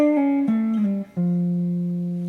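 Electric guitar playing a short solo phrase, a few clean sliding and bent single notes ending on a sustained tone, played alone.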